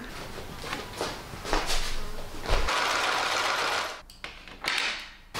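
A sewing machine stitches the curved hem of a witch's cloak, whirring close up in rapid bursts with brief pauses between runs.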